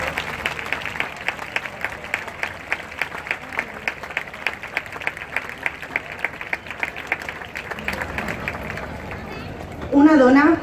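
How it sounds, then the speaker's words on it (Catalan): A crowd claps in a steady, rhythmic beat at an evening fallera preselection gala in the Jardines del Palau, Valencia, sustained for several seconds before a voice takes over at the end. "Aquest aplaudiment és per a totes vosaltres"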